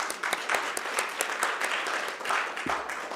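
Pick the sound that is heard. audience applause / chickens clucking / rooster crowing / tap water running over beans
audience applause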